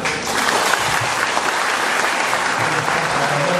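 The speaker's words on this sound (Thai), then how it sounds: "ขอเสียงปรบมือนี้ให้ท่านปรบมือจากตัวท่านเองที่มาในวันนี้ด้วยนะครับ" Sustained audience applause fills a closing panel session of a Thai public forum, steady and dense throughout, with a faint voice briefly rising under the clapping.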